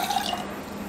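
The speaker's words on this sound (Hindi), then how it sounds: "तो अब हम डालेंगे दूध।" Milk is poured into a pan for wheat kheer, a brief close liquid splash and trickle lasting about a second.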